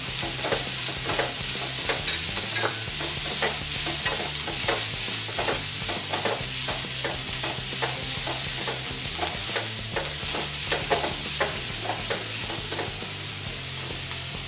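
Capsicum and onion stir-fried in a pan for Chinese bhel: steady loud sizzle with repeated scraping stirs of a spatula throughout, no voices.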